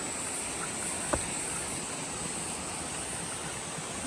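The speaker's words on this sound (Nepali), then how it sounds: "यस्तो खल खल खल आवाज सुन्दै" Water flowing from a stone spout on a mountain trek in Nepal makes a steady, continuous gurgle and rush close by, with one brief knock partway through and no talking.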